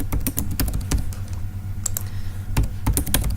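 Rapid keystrokes on a computer keyboard as a password and full name are entered, close and clear, in irregular bursts of clicks with short pauses between.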